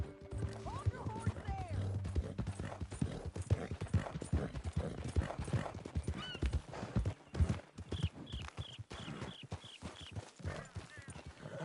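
Hooves clip-clop steadily at close range while a horse whinnies near the start in Red Dead Redemption 2, with talking and faint mechanical sounds mixed in.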